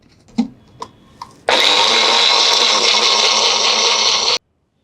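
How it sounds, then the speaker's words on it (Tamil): A kitchen blender grinds gooseberries with water: a few light clicks and taps, then a loud, steady motor whir that runs for about three seconds and cuts off abruptly into silence. "இப்போ இது கூட கொஞ்சம் நம்ம வந்து தண்ணீர் வந்து சேர்த்துடலாம் பிளெண்டரில் வந்து அரைச்சிக்கலாம்"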